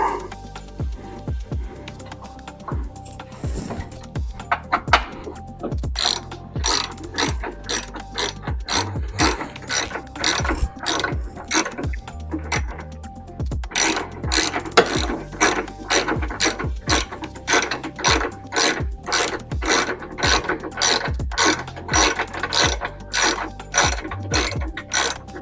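A ratchet clicks in rapid bursts while tightening the battery hold-down on a Toyota Tacoma, close and crisp, with short pauses between strokes and no talking.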